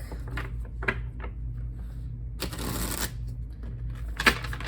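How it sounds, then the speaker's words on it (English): Crisp riffling bursts of a Light Seers tarot deck being shuffled, several short flutters and one longer rush, close by over a low steady hum. "I want to shuffle a little bit more."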